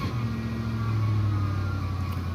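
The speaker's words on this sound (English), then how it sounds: "Right now it's kind of in high idle." A car engine sits at high idle, holding a steady, moderately loud hum with a low tonal drone throughout and no speech.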